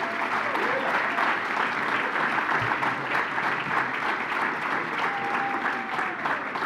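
Steady applause fills a gala hall as a 1956 West Wilkes honoree, Arthur Gerald Langford, is welcomed to the stage; dense, continuous clapping from a large crowd holds at an even level throughout.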